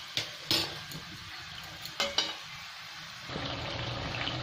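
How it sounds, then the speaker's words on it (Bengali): Masala with tomato puree frying in a pan for chicken curry, a steady sizzle broken by several sharp clinks and scrapes of a spoon stirring, with the frying growing louder and fuller toward the end. "এখন এতে 10 মিনিটের মতো আমি ভাজতে থাকবো, একদম কালার চেঞ্জ হয়ে যাবে"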